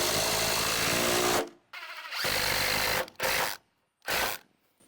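A power driver sinking a lag screw at an angle into a barn post, a loud grinding whir in one long run followed by short, stuttering bursts with silent pauses, close and alone.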